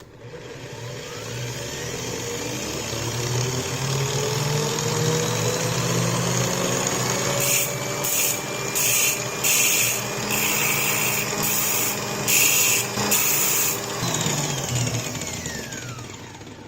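An angle grinder runs at a lower, controlled speed, a steady loud whine that rises and settles over a long stretch, with bursts of harsher broadband grinding noise toward the middle and a tapering finish.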